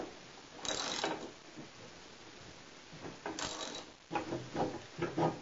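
Bolts being tightened on the two halves of a TorqueTrak Revolution collar, heard as close ratcheting tool clicks in several short bursts separated by quiet gaps.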